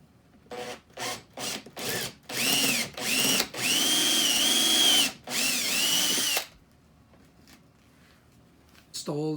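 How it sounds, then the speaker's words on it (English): A power drill whirs close and loud in several short bursts while drilling a hole in a battery box, then runs longer and steadier before stopping, leaving quiet with a brief final buzz. "Drill a hole in the battery box for the switch."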